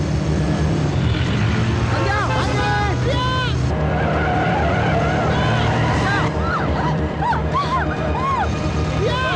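A bus skids after its brakes fail in the climax of a Telugu comedy film: a loud, continuous squeal and screech for about nine seconds under a dense mix of effects and voices, with people talking throughout.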